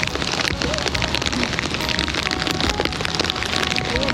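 Heavy rain pours down in a dense, constant hiss and patter, loud and close, with no pauses or voices, heard on the road from Ban Phonxai to Mahaxai, Laos.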